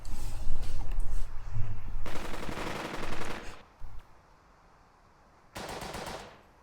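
Bursts of suppressing machine-gun fire in the WW2 video game Burden of Command: a long loud rattling volley, a brief shot, then another sharp burst after a pause.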